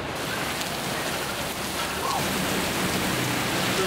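Heavy rain pours down in Philadelphia, a dense, steady roar of downpour drumming on surfaces with no pauses, loud and close throughout.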